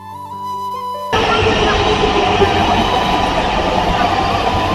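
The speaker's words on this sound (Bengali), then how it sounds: "মেট্রো চলে আসছে।" A metro train arrives at a crowded station on the route from New Market to the zoo, rising suddenly into a loud, steady rumble and rush of wheels after a short quieter stretch with faint tones.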